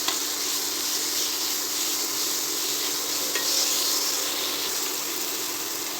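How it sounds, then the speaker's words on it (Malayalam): Brinjal gravy sizzles and hisses steadily in a pan as it is stirred, a loud, even frying sound that continues throughout with no voices. "നല്ലൊന്ന് ഇളക്കി കൊടുക്കാം"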